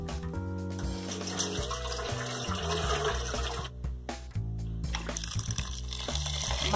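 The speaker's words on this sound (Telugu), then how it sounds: "మళ్ళీ ఫ్రెష్గా వాటర్ పట్టుకోవాలండి" Tap water runs steadily into a bowl of fenugreek seeds being soaked for dosa batter, a continuous splashing stream with clinks of the bowl, no speech.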